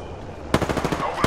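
A rapid burst of automatic gunfire in Apex Legends, an R99 submachine gun in play, rattles out close and loud for under a second after a quieter lead-in.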